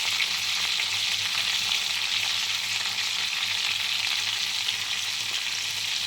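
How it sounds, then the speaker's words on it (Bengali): Ground cumin and chili powder sautéing in hot oil for a homestyle rohu fish and cauliflower curry, a steady, dense sizzle that holds evenly from start to finish with no talking. "এবার বেশ ভালো করে আমি কষিয়ে নেব বন্ধুরা।"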